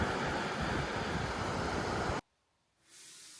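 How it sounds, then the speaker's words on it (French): Wind gusting across a seaside beach on Corsica, a loud roaring rush buffeting the microphone that cuts out abruptly, leaving near silence before a fainter wind returns. "il y a un peu de vent"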